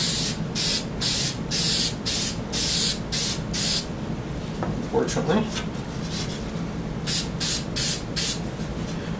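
Repeated short hissing bursts from an aerosol can of spray adhesive applying a light coat, in quick sets with pauses between, alongside a brief spoken word.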